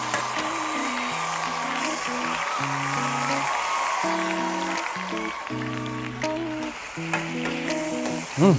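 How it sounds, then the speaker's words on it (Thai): Loud, constant sizzling of holy basil stir-fry with Chinese sausage in a hot pan, with occasional clanks of a utensil against the metal. "ฟังเสียงชูชี เสียงดังฟังสนอหูครับผม"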